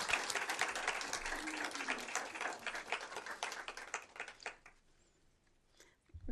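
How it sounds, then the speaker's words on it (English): Audience at a school board meeting claps in a sustained round of applause for honored young people, dense and steady before tapering off into near silence, with a brief bump of sound at the very end. "One more round of applause."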